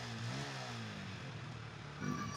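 A Yamaha Vixion motorcycle engine fires up and runs steadily, its low droning tone rising briefly as the throttle blips, heard close and continuous.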